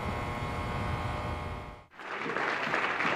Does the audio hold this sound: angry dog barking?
no